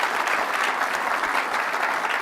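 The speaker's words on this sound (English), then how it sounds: "Huge round of applause for them because they make this all possible." A crowd claps steadily, a dense patter of many hands at moderate distance with no voices.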